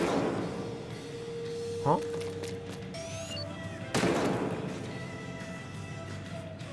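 In Splatoon 3, a charger takes a full-charge shot aimed straight down, giving one sharp burst followed by a second heavy blast amid game effects and music. A player talks briefly.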